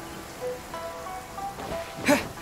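Steady rain falling in the video game Genshin Impact, a faint continuous patter with a brief brighter splash near the end and no talk.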